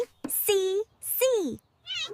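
Three cat meows from a children's alphabet song, each a clear, close, rising-then-falling cry, spaced about half a second apart with short gaps between them.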